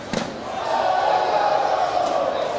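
A crowd at a cornhole match erupts in a loud sustained roar of cheering after a brief thud, building and holding steady.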